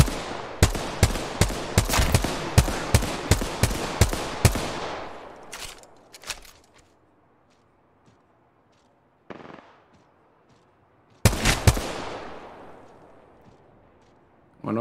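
Apex Legends gunfire on PS5: a rapid, loud burst of automatic shots for several seconds, then a few isolated shots and a second sharp volley, close and punchy with quiet gaps between.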